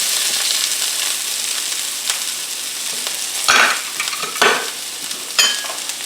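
Red and green bell peppers hit a hot pan, a steady close sizzle with stirring scrapes and three louder bursts as more peppers drop in.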